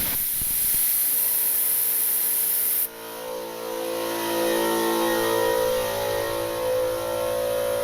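Air compressor running and filling up for a cylinder leak down test on a turbo Honda Civic, a loud continuous motor drone with a hissing airflow that shifts partway through, close and without speech.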